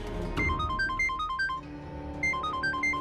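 A phone ringtone for an incoming call plays as a repeating electronic melody in short bursts, pausing briefly before starting again, heard over background music.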